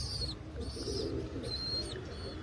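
Malwai pigeons coo in soft, repeated rounds close by, with a low background hum and no talking.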